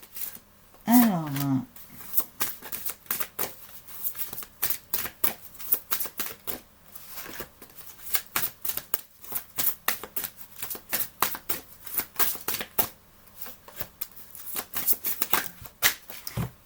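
Playing cards shuffled by hand for a tarot-style card reading, a rapid run of crisp riffling taps and flutters that continues through most of the stretch, close up, with a brief spoken voice near the start.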